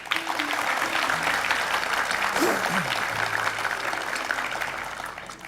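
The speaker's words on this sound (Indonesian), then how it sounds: "kasih tepuk tangan dulu buat Sorry" A studio audience on the Indonesian talk show Hitam Putih applauds a guest, giving steady, moderately loud clapping from many people that softens slightly toward the end.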